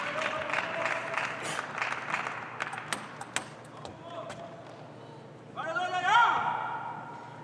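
Applause from a table tennis crowd, with a scattered burst of clapping early on that thins into individual claps, under a commentator's talk, then cheering voices rising near the end.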